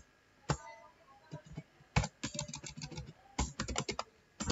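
Clattering keystrokes on a computer keyboard while code is entered for a Laravel tutorial, coming in quick irregular bursts with short pauses, close and fairly quiet, no talking.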